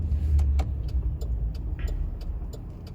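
A Honda car fitted with oversized wheels drives past in a small Georgia town, a steady low engine and road rumble holding close and loud for the whole stretch, with faint ticks above.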